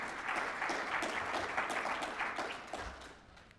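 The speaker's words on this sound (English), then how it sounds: "y'all should give Phil Goldfeder a round of applause." Audience applause during a congressional keynote event, a moderate round of clapping that gradually fades toward the end, heard alone without speech.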